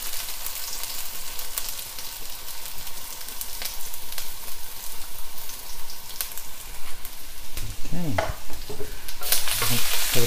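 Spring onion and garlic fry hard in a wok for Yung Chow fried rice, giving a loud, steady sizzle with stirring, and a burst of sharper spattering and scraping near the end.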